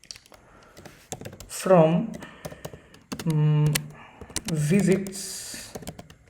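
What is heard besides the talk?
typing SQL code on a computer keyboard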